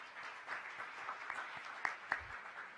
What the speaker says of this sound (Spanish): Así que un aplauso para todos en ese sentido.